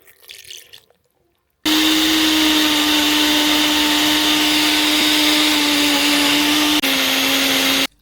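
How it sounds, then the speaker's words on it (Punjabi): A mixer grinder blends boiled spinach with water, starting abruptly after a short quiet rustle and running as a loud, steady motor whine with a slight pitch dip near the end before it cuts off. "ਹੁਣ ਆਪਾਂ ਇਹਨੂੰ ਕਰ ਲੈਣਾ ਮਿਕਸੀ ਦੇ ਵਿੱਚ ਟ੍ਰਾਂਸਫਰ"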